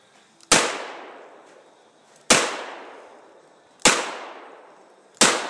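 Four loud gunshots from a six-shooter revolver, fired one at a time about every one and a half seconds, each a sharp crack followed by a long, echoing decay.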